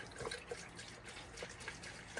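Engine coolant poured into the cooling system of a Dodge Caravan makes a soft, steady trickle and gurgle, close and quiet, with no talking.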